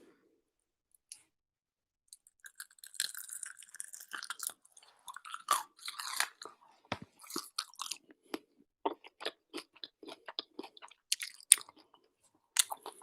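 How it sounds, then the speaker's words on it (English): Crispy fried food crunches close to the mouth, with a long run of irregular sharp bites and chews, loud crackly snaps between short quiet gaps. "Listen to this crunch, okay?"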